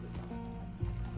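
In Red Dead Redemption 2, a horse's hooves clip-clop briefly and faintly, with a short snort or stamp near the end.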